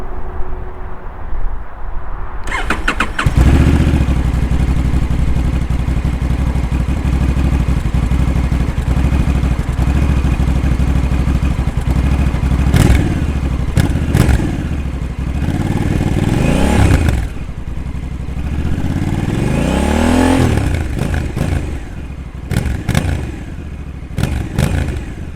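A 2021 Honda Africa Twin CRF1100 with DCT starts up and rides along country roads, its engine droning loud and steady with wind rush, rising and falling revs as it shifts and accelerates.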